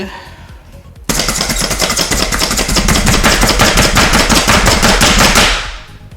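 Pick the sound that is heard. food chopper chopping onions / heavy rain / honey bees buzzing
food chopper chopping onions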